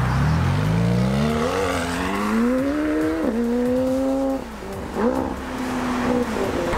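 A McLaren 720S supercar roars past and pulls away, its high-revving engine climbing in pitch through several gear changes, loud at first and fading slightly with distance.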